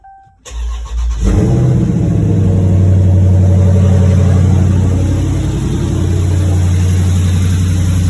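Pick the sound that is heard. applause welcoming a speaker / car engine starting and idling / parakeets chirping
car engine starting and idling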